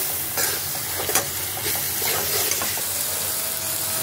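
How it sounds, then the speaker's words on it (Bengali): Ground cumin, coriander and turmeric fry in hot oil with a loud, steady sizzle while a utensil stirs and scrapes the pan in short, uneven strokes, close by and with no talking. "এখন এই সব মশলাগুলো দিয়ে আমি ভালো করে একটু কষিয়ে নেব"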